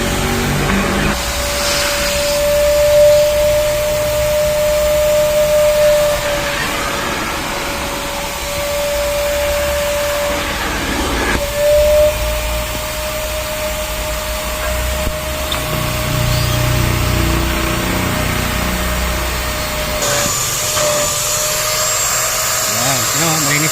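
A vacuum cleaner works over the interior of a Toyota Avanza, its steady whine holding close and loud while the pitch shifts slightly as the nozzle moves, with scraping and bumps in between and a person talking now and then.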